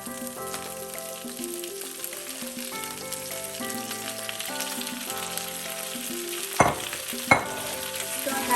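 Spinach wilting in a pan over browned garlic gives a steady, close sizzle that sits beneath prominent background music, with a couple of louder spatula knocks near the end.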